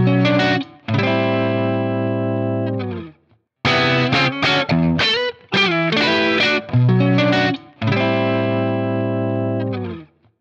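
Distorted electric guitar chords, played through either a Helix amp modeler or the real amp it models, ring out in several long sustained bursts, separated by short staccato stabs and brief silences, loud and close.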